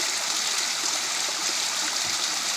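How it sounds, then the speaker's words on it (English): A waterfall on a mountain hiking trail beside a creek, a steady, dense rush of falling water filling the whole clip at close range with no voices. "What a cool waterfall."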